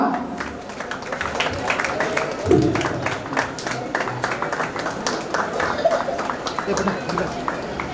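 A crowd at a World Photography Day event applauds steadily, many hands clapping in a dense patter that carries on for several seconds, with some voices underneath.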